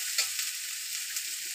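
Chopped food roasting in a hot pan, a continuous bright sizzle close by with a few faint stirring knocks, no voices.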